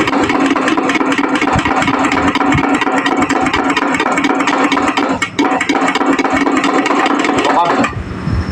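Diesel engine with an injection pump, after a pump check for hard starting, running loud and steady close by, with a busy mechanical clatter that cuts off sharply near the end.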